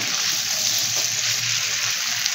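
Half a cup of water hitting hot oil with garlic cloves and chili, a steady loud hissing sizzle that continues without a break.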